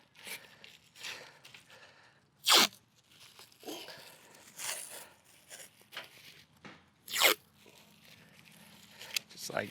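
A plastic sheet is handled and folded over a surface while preparing a house exterior for airless spraying, giving close, scattered crinkles and two sharp crackling rustles among quieter handling noises.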